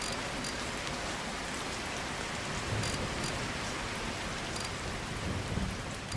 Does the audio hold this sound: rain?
yes